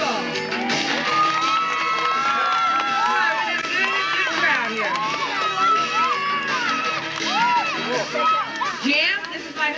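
A crowd at a 1989 freestyle action sports show keeps up continuous whooping, yelling and cheering, many voices close together and loud, with shouts rising and falling throughout.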